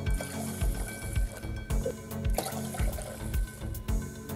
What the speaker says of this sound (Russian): Все это дело заливаем 3 бокалами воды.